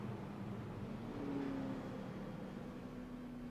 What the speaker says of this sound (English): the Ford Fusion will spin out in turn number 3